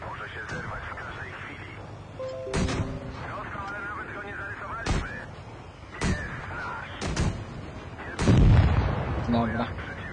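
Single shots from a video game firearm, about eight sharp, loud cracks spaced irregularly over several seconds, with people talking between them.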